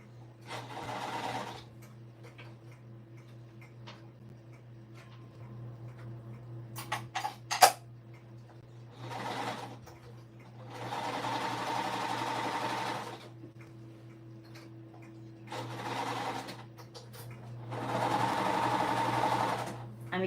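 A sewing machine runs in repeated bursts through fluffy Minky fabric, a steady close whir punctuated by pauses, clicks and handling noises of the fabric being adjusted.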